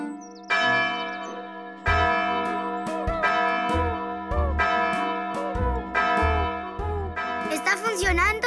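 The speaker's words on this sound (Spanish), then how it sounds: "¡Las campanas! ¡Están sonando!" Big bells ring out in a cartoon, several loud strikes at a steady pace, each tone sustaining and overlapping the next, with a burst of bright chiming near the end.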